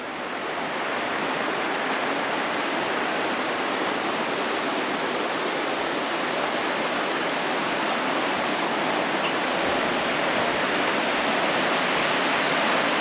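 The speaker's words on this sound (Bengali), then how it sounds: "ওই যে নিচ দিয়ে নদী দেখেন, আর এই যে নদীর উপরেই হচ্ছে ব্রিজ" A river flows beneath a bridge in a large park, making a steady, dense rush of water that stays constant and even throughout, with no voices.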